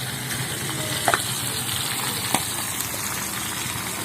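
Egg sambal frying steadily in a pan, a continuous close sizzle with a couple of sharp pops and crackles over about four seconds, no voices.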